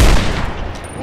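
Rapid gunfire in the VR version of Fallout New Vegas, multiplayer, with a heavy low boom at the start followed by a dense, continuous burst of shots for about a second.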